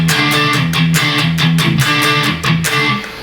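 Dry electric guitar part played through a Fryette amplifier without a cabinet impulse response, with steady rhythmic chugging chords and sustained tones, loud and close with no talking.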